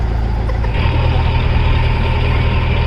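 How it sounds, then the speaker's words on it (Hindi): A boat engine at full thrust on Hussain Sagar lake in Hyderabad drones loudly and steadily, a deep continuous rumble that shifts pitch slightly early on, with no talk over it. "कैप्टन ने इंजन को थ्रस्ट दे दिया है पूरा।"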